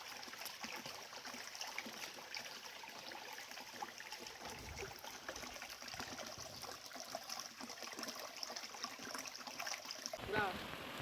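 Water of the Chaulabhaja Waterfall in Mayurbhanj rushes in a steady, broadband wash that runs unbroken throughout, with a voice talking faintly underneath.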